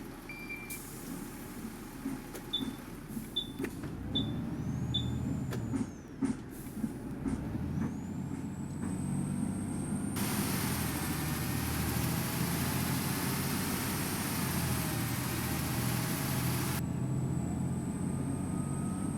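Volvo B7TL ALX400 double-decker bus in the OMSI 2 simulator: a steady engine drone with a series of short electronic beeps, a rising whine, and a long loud hiss of air brake release midway.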